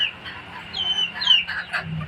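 Free-range desi chickens cluck in the evening on a poultry farm, with a few short, moderately close calls that rise and fall over a quiet background and no talking.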